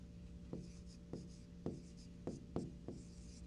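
A pencil draws separate shapes on paper with soft, close scratchy strokes. Five or six short, distinct strokes come at a steady pace under a faint steady hum, and no one speaks.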